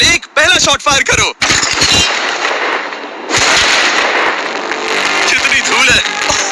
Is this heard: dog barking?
no